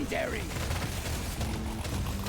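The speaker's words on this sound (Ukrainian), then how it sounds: "Та це вже кулемета не дробовик." Rapid machine gun fire in the Deep Rock Galactic: Survivor video game, a dense continuous stream of shots running the whole stretch with an electronic sweep at the start.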